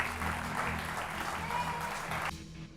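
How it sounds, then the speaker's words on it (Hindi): Audience applause welcoming a well-known storyteller onto a talk-show interview stage, steady dense clapping that fills the room, then drops off sharply to quieter crowd murmur near the end. "जोरदार तालियों के साथ स्वागत करिए"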